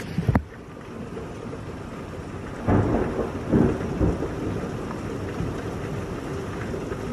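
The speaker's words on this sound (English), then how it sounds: "Damn, it's raining hard." Heavy rain pours in a dense, constant roar during a Texas storm, with rolling thunder swelling twice midway and a sharp crack at the start; no one speaks.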